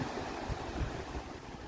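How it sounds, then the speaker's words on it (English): Ocean surf breaking on a rocky shore of round stones at a seaside village bay on Pico Island in the Azores, a continuous rushing wash of water with wind noise, steady and fairly near, no voices. "Another ocean break, guys."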